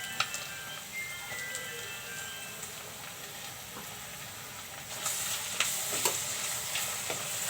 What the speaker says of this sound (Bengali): আদা রসুন এক চামচ দিয়ে দিলাম